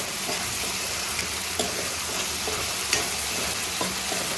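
Onion and raw masala paste frying for prawn curry, a loud, steady sizzle and crackle close up with occasional soft stirring knocks, no voices.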